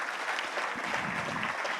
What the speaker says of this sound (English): let me just give them a round of applause too for being here today